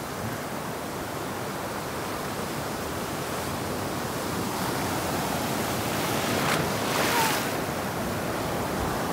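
Ocean surf at Trincomalee, Sri Lanka: a steady broadband wash of breaking waves close by, with a slightly stronger surge near the end and some wind noise, no voices.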